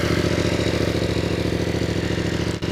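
A Royal Enfield 450 CL-C Bobber motorcycle engine idles close by with a steady, rapid putter, a constant low rumble throughout.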